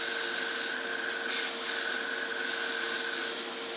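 Black water-based acrylic polyurethane primer misted from an airbrush in bursts, a steady close hiss that pulses in and out several times with no talk.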